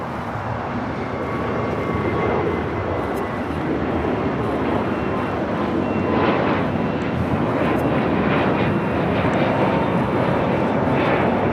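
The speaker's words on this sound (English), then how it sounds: "Next takeoff is JetBlue Flight 2010 heading to West Palm Beach, Florida. It's an A321 NEO." A JetBlue Airbus A321neo jet takes off at LAX with a loud, steady broadband engine roar that holds for the full stretch, building slightly in intensity toward the end. No voices are heard over it.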